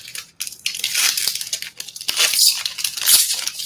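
Plastic blind bag packaging being torn open by hand, a series of close, loud ripping and crinkling bursts with brief pauses between pulls.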